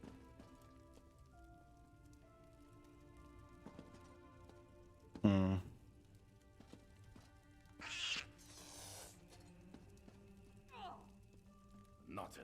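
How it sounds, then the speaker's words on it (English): A cat meows inside Elder Scrolls Online, a short wavering cry rising out of steady rain-like game ambience, with other brief bursts of in-game sound nearby. "Not another cat."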